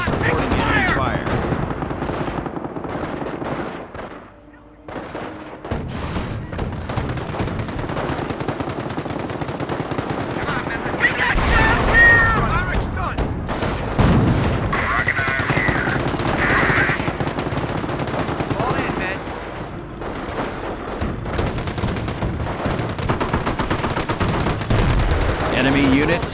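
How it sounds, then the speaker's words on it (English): Sustained battlefield gunfire from the World War II strategy game Company of Heroes, set in the Normandy invasion at Cherbourg: rapid machine-gun bursts and scattered rifle shots, loud and continuous, with occasional heavier blasts and brief radio-style voices over the fighting. "Headquarters is reporting enemy fire."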